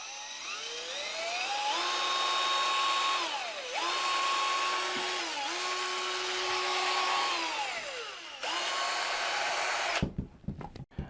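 A Parkside PWBSA 12 A1 12V cordless angle drill driver runs with a loud, steady high motor whine that drops in pitch several times as it slows and speeds up, then cuts off abruptly into handling clatter.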